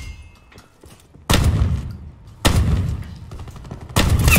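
SG-12 shotgun blasts in Call of Duty Black Ops 4 multiplayer, three loud booming shots spaced over a few seconds, each followed by a short decaying tail, with no talking.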